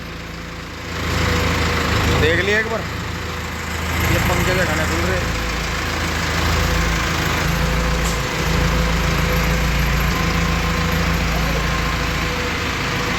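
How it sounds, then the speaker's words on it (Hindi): A 4x4 tractor's engine runs at a steady mid-pitched drone, close and loud throughout, with someone talking over it. "ट्रैक्टर फिर चल दिया है"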